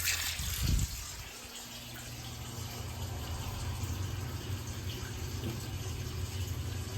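Water runs steadily from a tap fed by a gas boiler on a Monolith 1000 VA pure sine wave UPS, a continuous hissing rush beneath a low mechanical hum, after a brief louder burst at the start.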